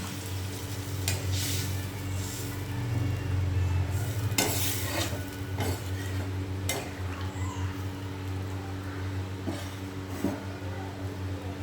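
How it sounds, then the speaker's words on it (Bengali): Curry gravy bubbling and simmering in a pan, a soft continuous sizzle with scattered clicks and scrapes of a spoon against the metal, close and moderately quiet, no voices. "এবার ঝোলটা ফুটতে থাকুক।"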